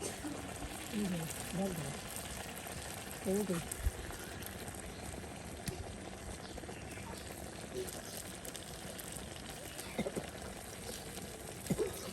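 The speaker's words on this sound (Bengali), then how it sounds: "ঈদের সকালে তৈরি হচ্ছে গরম গরম তেলের পিঠা।" Oil pitha cakes fry in hot oil at a village Eid morning cook, a steady low sizzle and bubbling under faint background voices and occasional clinks.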